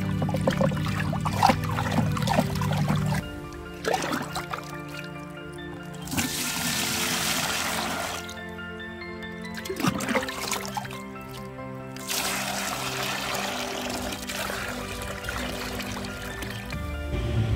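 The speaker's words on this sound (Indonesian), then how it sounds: "Setelah semua pupuk dilarutkan, kemudian diaduk, lalu masukkan ke ember induk, aduk lagi hingga semuanya tercampur." Liquid fertilizer solution for chili plants being poured into a large bucket and stirred, heard as near, continuous trickling and gushing water in several long bursts with brief pauses between them.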